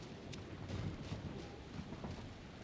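Steady rain falls in the video game Mafia: Definitive Edition, a dense continuous wash of noise with low thunder rumbling faintly beneath it throughout.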